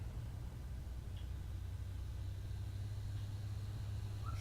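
A tractor engine labors while pulling a sprayer on a farm field, giving a faint, steady low rumble that holds evenly throughout without breaks.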